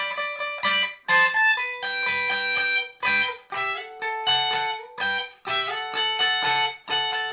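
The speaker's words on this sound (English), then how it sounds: "And then there's the mandolin part, which is pretty easily adaptable to the guitar." A mandolin line adapted to electric guitar, from a song, rings out as a bright, quick picked melody of repeated short phrases, played alone and clearly up close.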